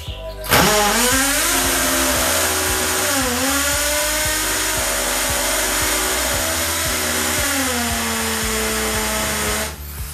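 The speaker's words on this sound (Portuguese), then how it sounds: "Agora vou furar aqui o próximo buraco." A Bosch power drill bores a hole into a wall, starting with a sharp spin-up into a loud, close, steady whine whose pitch dips under load a couple of times before it winds down at the end.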